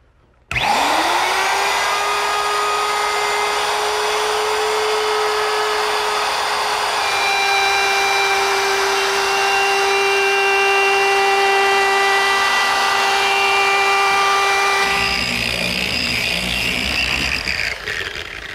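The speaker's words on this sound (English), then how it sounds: "you want to move the router with the rotation of the bit" A router spins up and trims a thin veneer edge on a rolling shop cabinet, a loud steady high whine held for about fifteen seconds before winding down, close and alone without talk.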